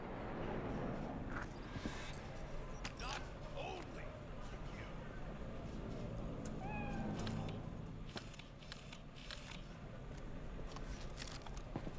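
A cat in Cyberpunk 2077 gives a couple of short meows over dense game ambience and background noise, with speech in the scene.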